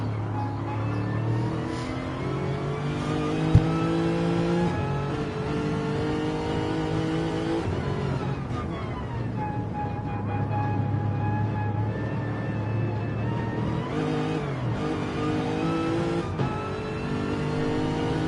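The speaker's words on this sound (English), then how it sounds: "I just hear him get on and off the throttle there to keep the car nice and stable as he picks up the power" Lexus race car engine heard onboard at the Nürburgring during a 24-hour race, loud and close, revving and easing as the throttle goes on and off, pitch climbing and dropping repeatedly, with no voices.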